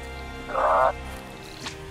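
A frog croaks once in the video game Drova - Forsaken Kin, a short buzzing croak rising over a low game ambience with music and no talk.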